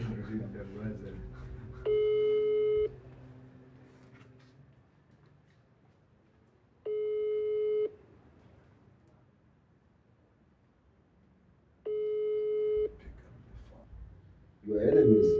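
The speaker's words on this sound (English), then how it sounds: "It's ringing." Repeated ringback tone of an outgoing WhatsApp call, about one-second bursts recurring every five seconds, with background voices and room noise between rings.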